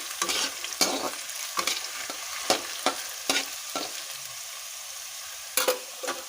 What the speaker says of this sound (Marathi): इकडे आपला बटाटा पण शिजत आहे तेलात आपण त्याला थोडस हलवून घेऊया